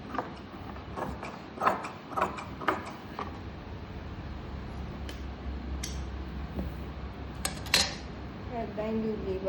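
Scissors snip excess cloth while an umbrella frock is being stitched: a few sharp, close clicks in quick succession, then another cluster of snips later, against a low background hum.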